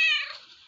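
A single short cat meow, high and clear, fading away over under a second, heard close and alone.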